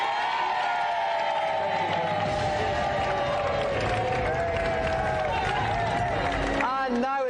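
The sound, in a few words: audience applause for Jimmy White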